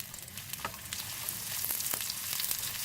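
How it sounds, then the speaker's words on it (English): Chopped onion sizzles steadily in hot vegetable or olive oil in a pan, a close, even hiss of frying with faint scattered crackles throughout. "heat 2 tablespoons oil and add 1 medium-sized chopped onion"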